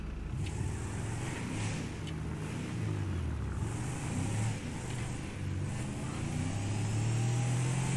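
Turbocharged Dubsta 2 (Mercedes G63 G-Wagon) driving in GTA 5, a steady low engine drone with shifting pitch as it accelerates, continuous and moderately loud with no talk.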